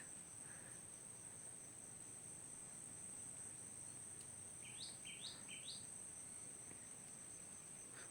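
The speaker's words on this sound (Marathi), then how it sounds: "पक्ष्यांचा किलबिलाट" A few quick, high bird chirps ring out in a short burst over a constant, quiet drone of crickets outdoors at sunset in a Konkan orchard.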